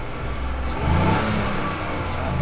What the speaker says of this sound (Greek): Για να μην χάσω τον ήχο του μοτέρ.